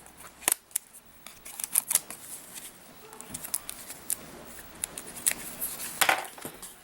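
Scissors snipping a piece of card for a handmade snow globe card, a few crisp close cuts with small clicks and rustles, otherwise quiet with no talking.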